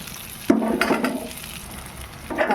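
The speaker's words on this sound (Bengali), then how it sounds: "এবার দিয়ে দেবো মাছের মাথা ভাজাটা" Fried fish head dropped into a pan of spiced oil with cumin powder, salt and sugar, giving a sudden loud sizzle and clatter followed by a settling hiss and a second brief burst of frying.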